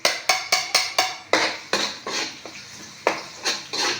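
A utensil clanks against a frying pan in rapid, repeated strokes as onion is stirred in oil with garlic, the metallic scrapes loud and close over a faint sizzle.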